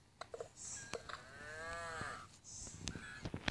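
A cow in the video game Mini Block Craft gives a drawn-out, wavering moo, close and clear, surrounded by short game clicks and effects.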